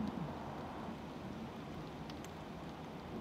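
Heavy rain pouring steadily on an afternoon in Hong Kong, a dense, even wash of drops with no pauses, moderately loud and close, with no voices.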